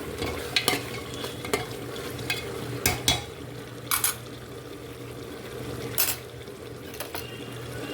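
Green chillies fry in a pan for yakhni pulao, a steady close sizzle under repeated clinks and scrapes of stirring spread across several seconds, with no one speaking.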